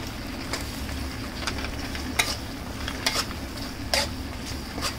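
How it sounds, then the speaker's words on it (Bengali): Chopped onion and green chilies sautéing in a pan with a steady, soft sizzle, broken by several sharp scrapes and clinks as a utensil stirs them around. "তো এটা ভালোভাবে কষানোর পরে প্রায় 5 মিনিটের মতো আমি এটা কষাই নিছি"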